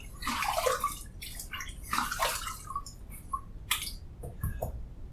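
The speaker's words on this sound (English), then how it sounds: "we're going to splash a little water on the face" Water splashed onto a face by hand before a shave, a series of close, wet splashes and drips from a sink, loud bursts separated by short pauses, with no talk.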